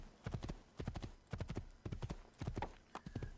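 A horse's hooves clip-clop at a brisk trot in the video game Assassin's Creed 2, quick clusters of hard hoof strikes repeating rhythmically, close and clear against faint background ambience.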